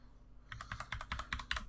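Keys on a computer keyboard clatter in a quick burst of about a dozen close, light strokes after a brief quiet moment.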